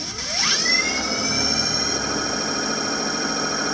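Electric motor on a 72-volt system spins up, a rising whine that climbs quickly and then holds a steady, loud high-pitched hum with a rough mechanical drone underneath.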